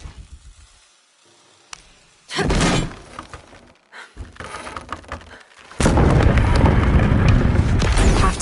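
Explosion in the Shadow of the Tomb Raider video game: thuds and bangs after a quiet stretch, a loud burst of blast noise, then a sustained roar of rumbling debris through the end.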